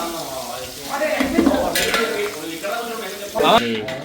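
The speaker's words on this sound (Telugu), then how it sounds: "ఆనియన్స్ అయితే ఇప్పుడే మరి నూనె అయితే వేసేసాం" Onions sizzle in hot oil in a pan while being stirred, a steady crackling fry close by with scraping and clinks of a spoon against the pan.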